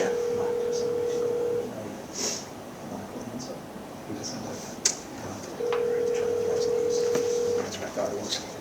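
A phone on speakerphone at a zoning board meeting gives long steady ringback tones, two sustained beeps several seconds apart, over room noise and faint murmuring voices.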